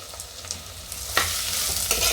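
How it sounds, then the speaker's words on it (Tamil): Chopped onions sizzle and fry in hot oil for a chicken gravy, with a spoon scraping and stirring through them in a few distinct strokes over a steady close hiss. "இப்போ வெங்காயம் வந்து நல்லா வதங்கட்டும் எண்ணெயிலேயே"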